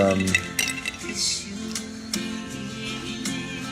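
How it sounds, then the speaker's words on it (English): A spoon clinks and taps repeatedly against a cup or glass while a drink is stirred, giving a series of sharp metallic chinks at close range, with music playing and a voice in the background. "I always forget my spoon and the stirring thing"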